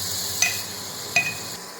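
Boiled, finely chopped cauliflower with turmeric and salt stirred in a pan, two light metallic taps of the spoon against the pan over a steady faint hiss.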